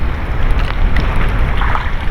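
Strong wind roars steadily against the microphone at sea among waves, a dense low rumble with a faint watery wash underneath, continuous and close.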